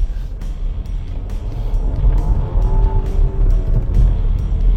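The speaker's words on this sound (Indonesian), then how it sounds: "Off-road naik Porsche." A Porsche Macan SUV driving off-road over a badly damaged dirt road: a steady, close engine hum under rumbling tyres and jolts, with the engine note rising midway.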